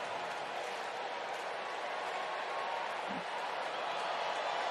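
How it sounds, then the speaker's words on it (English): Baseball crowd at Busch Stadium on a Friday night during Royals vs Cardinals, a steady wash of cheering and noise filling the stadium continuously, broad and sustained without a break. "Crowd on this Friday night making some noise here at Busch Stadium"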